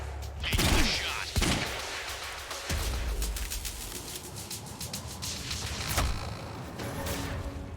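Gunfire in Quantum Break: several sharp, loud shots in the first few seconds, followed by a dense rattle of further shots and action noise under intermittent talk.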